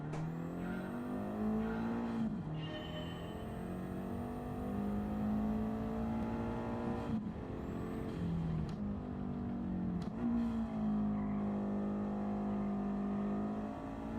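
A slippery, not particularly quick car in a racing video game drives and revs, its engine note rising and falling through gear changes. Brief tyre squeal comes in between the revs, and the sound is continuous and close, with no voices.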